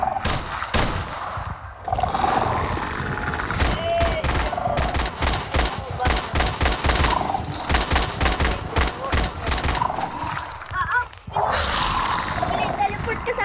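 Rapid bursts of video-game gunfire and roaring creature noises fill a fight against the warden, dense and loud, while players talk excitedly over the shooting.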